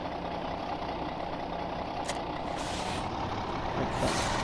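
Truck engine in a truck driving simulator, a steady loud diesel drone and idle with a sharp hiss of air brakes releasing partway through and again near the end, no talk.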